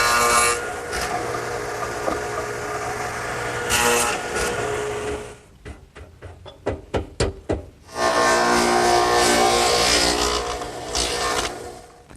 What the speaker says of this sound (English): the best way to remove the material to make the lap joint is to use the radial arm saw, which is set up with the stacked dado head cutter